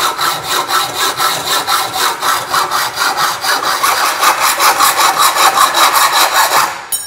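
Hand sawing through steel trunking held on a workbench, with steady back-and-forth strokes in a brisk even rhythm, loud and close, speeding slightly toward the end before stopping.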